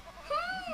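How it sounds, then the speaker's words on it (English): Goat bleating, a single short, faint nasal call rising then falling, heard alone. "Oh, that would be a goat."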